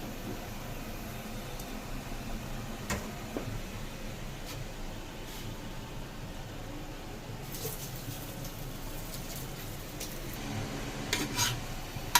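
Food frying in a pan for a breakfast snack, a steady low sizzle and scraping of a utensil against the pan running throughout, with a few brief clinks near the end.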